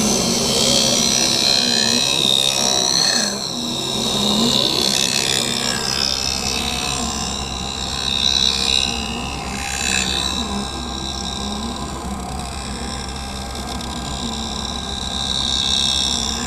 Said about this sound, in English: now it's going to move over and put the bevel onto the lens